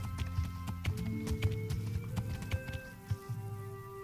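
A horse gallops in a video game, its hooves pounding in a quick, regular clip-clop rhythm at moderate distance, with faint background music tones underneath.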